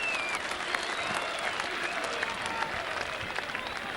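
A rugby league crowd at Whitehaven versus Workington claps and cheers after a score, a dense, steady roar of applause with whistles filling the whole stretch.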